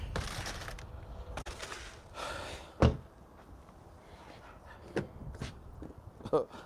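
Dogs bark in short, excited bursts from somewhere nearby but out of sight, a few sharp yaps spread across a stretch of quiet room noise and light thumps.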